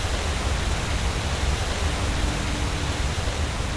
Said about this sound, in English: it's gotta get away from the waterfall